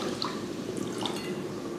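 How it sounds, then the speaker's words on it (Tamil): Water from a jug pours into a pot of rice in a home kitchen, giving a short, steady splashing and trickling stream that is near and fairly quiet, with no talk. "1 ஜக்கு தண்ணி"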